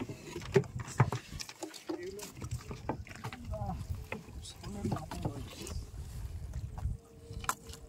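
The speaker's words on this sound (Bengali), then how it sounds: "আমি নৌকাটা টেনে কানায় নিয়ে যাবো" A wooden rowboat moves on a river during net fishing, with soft irregular water splashes and knocks, light wind, and people talking nearby throughout.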